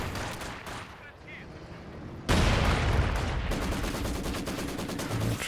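Machine gun fire in Company of Heroes 2, a World War II real-time strategy game: a sudden loud burst of rapid gunfire that starts partway through and keeps rattling steadily under the battle noise to the end.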